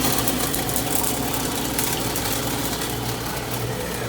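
A Howe ice machine runs steadily, freezing and cutting ice, giving a constant mechanical hum and whir with faint rattles throughout.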